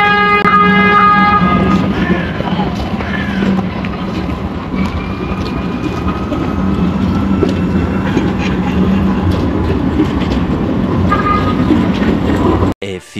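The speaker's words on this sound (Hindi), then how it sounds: "ये सामने से ट्राम आ रही है" A tram rumbles past on a street in Istanbul with a loud, steady rolling roar and a few horn-like tones early on, under wind noise and outdoor city bustle, ending in a sudden cutoff.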